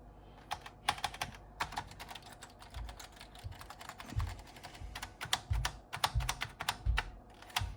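Rapid typing on a computer keyboard, a dense stream of crisp key clicks with occasional heavier thumps, close and unbroken by speech.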